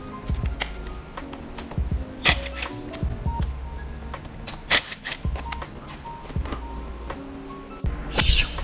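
Seat bolts on a Suzuki SV650 being removed with a 6mm Allen key: close metallic clicks, taps and ratcheting scrapes in an irregular series, with a brief clatter near the end.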